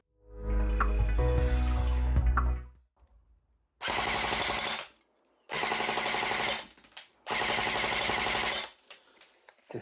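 S&T AK-74MN airsoft rifle firing full-auto bursts in a rate of fire test, three long, loud, rapid buzzing strings of shots separated by short pauses, after a brief stretch of other noise at the start.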